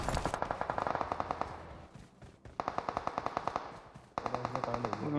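Rapid automatic gunfire in PUBG Mobile, loud bursts of machine-gun shots broken by short pauses, then resuming in fast regular volleys.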